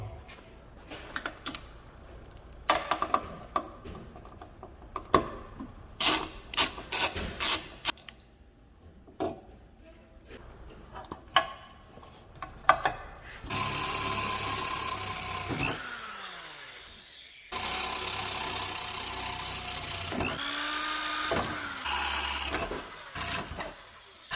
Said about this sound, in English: We'll take our Torx 25, remove the two bolts from the inside here so we don't break the lens